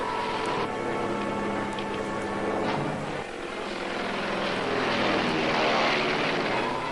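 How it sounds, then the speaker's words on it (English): Droning propeller aircraft engine passes overhead, a steady loud hum that swells toward the end, with no talking. "That plane's headed this way."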